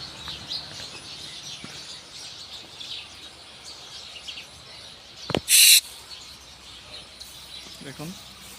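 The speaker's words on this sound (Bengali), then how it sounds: "পাখির কিচিরমিচির সাথে তো ফুলের সৌন্দর্য আছে" Many birds twitter and chirp among flowering trees in a steady background chorus, broken by a sharp loud burst partway through and a brief closer call near the end.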